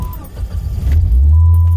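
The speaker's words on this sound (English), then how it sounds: "truck starts right up" A manual stick-shift Jeep Grand Cherokee engine cranks briefly and catches, settling into a loud, steady low idle close by after a new ignition switch was fitted.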